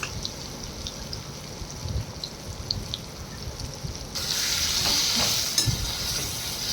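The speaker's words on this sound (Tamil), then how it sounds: "கலந்த மசாலாவை கடாயில் ஊற்றி வறுத்தெடுக்கவும்." Masala-coated raw banana frying in a kadai makes a soft steady sizzle that swells into a louder, brighter hiss partway through, with a few faint clinks, heard close.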